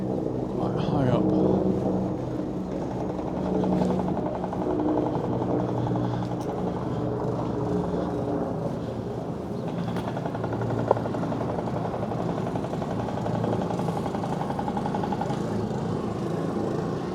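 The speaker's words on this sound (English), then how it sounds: "Helicopter overhead again." A helicopter passes high overhead in Paguera, Mallorca, as a faint, steady distant drone under nearby voices and ambient outdoor noise.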